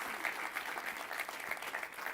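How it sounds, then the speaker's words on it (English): An audience at a startup pitch event applauds panel guests as they are introduced, a dense, even patter of many hands clapping at moderate volume in a hall, with no voices over it. "Good applause still."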